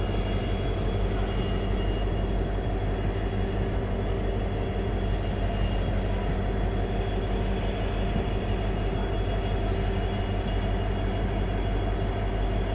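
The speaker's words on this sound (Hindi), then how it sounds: "ये जो ट्रेन है वो आज फाइनली चल रही है" Passenger train on a first run to Manipur, a steady close rumble of wheels and carriage throughout with a low hum and no speech.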